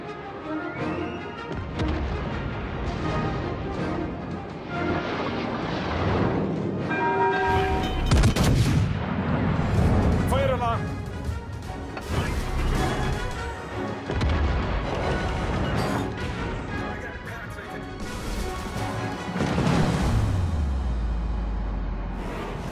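Warship guns firing in World of Warships: Legends, repeated heavy booms and cannon blasts in irregular salvos over a dense naval battle soundscape with explosions, loud throughout.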